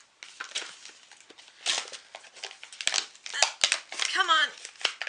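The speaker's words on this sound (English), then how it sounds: "let's get the scissors." Scissors snipping and crinkling through cute cosmetic packaging, a steady run of close crisp cuts and rustles, with a brief voice near the end.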